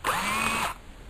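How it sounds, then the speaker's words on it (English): A DeWalt drill drives a two-flute speed tap in a short, steady whir that lasts under a second and then cuts off abruptly, loud and close with no talking. "I just put the tap up against with the DeWalt drill, and boom."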